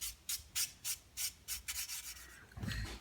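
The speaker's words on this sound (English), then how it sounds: "all of these little fuzzies from the power sander get cleaned up with this fine emery board" Fine emery board rubbing fuzz off power-sanded wood, a run of about ten short close scratchy strokes in an uneven rhythm, with no talk.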